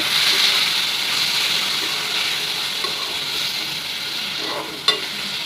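Tomatoes stirred into a frying chilli chutney in a pan, giving a steady, close hiss of sizzling with soft scraping from the stirring and one sharp clink near the end.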